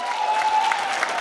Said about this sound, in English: Can we give the board members a round of applause?